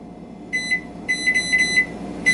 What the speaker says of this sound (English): So let's set a kitchen timer